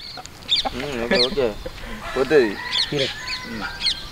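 A fighting rooster clucks and calls in short bursts nearby at a cockfight, while people talk around it.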